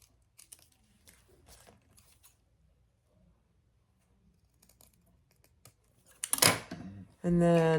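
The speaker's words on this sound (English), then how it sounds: "Cut your excess without being sure not to cut your zipper case." Soft, sparse snips and small rustles of excess thread being cut beside a zipper on a handmade eyeglass case sound close by in a quiet room, followed by a sudden burst of handling noise and a voice starting to speak.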